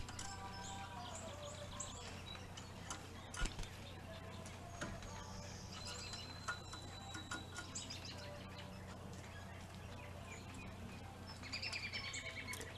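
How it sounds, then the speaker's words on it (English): Birds chirping at a backyard feeder, small scattered tweets and calls over a steady outdoor hiss with insect-like buzzing, fairly faint and distant. "They're more trusting birds than some of the others."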